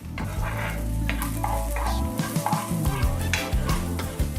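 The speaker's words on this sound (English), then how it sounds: "Next, we're gonna go in with our onions and our garlic, and we're just gonna saute these until fragrant." Onions and garlic sauté in olive oil in a pan, giving a continuous sizzle. A utensil stirs and scrapes through the pan with repeated clinks and knocks. No one speaks.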